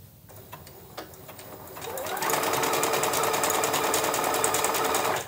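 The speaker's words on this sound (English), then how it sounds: "So let's stitch to the first time that we're going to pivot." A sewing machine stitches an appliqué onto a fabric bag, starting with a few scattered handling clicks and then running in a steady, loud, rapid mechanical rhythm for the last three seconds.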